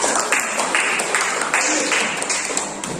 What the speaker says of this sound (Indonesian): Jadi sekarang tepuk tangan dulu untuk kerja kelompok kita.